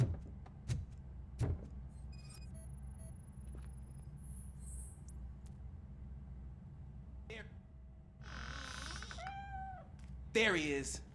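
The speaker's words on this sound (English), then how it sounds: "The cat is fine." Cat meowing in the video game RoboCop: Rogue City, a couple of short mewing calls late on among game noises, clicks and an electronic hum, with people talking around it.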